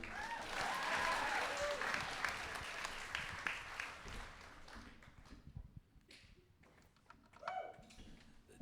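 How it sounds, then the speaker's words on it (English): Audience at a university coffeehouse show claps for a performer, a strong burst of applause that thins out into scattered claps and small room noises after a few seconds. "You can clap for him"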